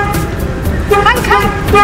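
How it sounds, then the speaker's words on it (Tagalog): Repeated car horn toots sound up close, mixed with excited voices talking and shouting. "You honk, honk!"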